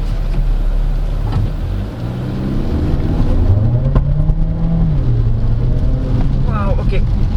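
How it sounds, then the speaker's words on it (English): 2023 Changan CS35 Plus Luxe subcompact crossover accelerating hard at full throttle from inside the cabin, a low engine drone rising in pitch, then dropping at a gear change, with road rumble throughout. "It shifts up and down in my command, and then just leave it on drive mode and just floor it."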